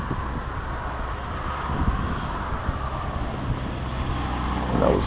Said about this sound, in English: And that was a car.